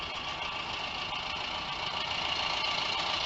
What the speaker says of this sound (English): It is idling right up like it's nothing.